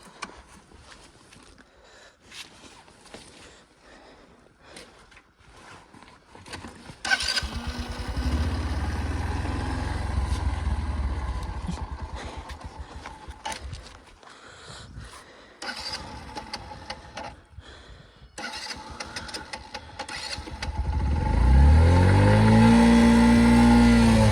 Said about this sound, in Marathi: गाडी उगाच बंद केली मी. परत चालू होती नाही होती.